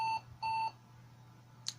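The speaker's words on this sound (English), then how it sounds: "Beeps. That's great." A Pentium 4 computer beeps on power-up: two clear electronic tones, a short one then a longer one, followed by a faint tiny chirp over a low steady hum, quiet and close.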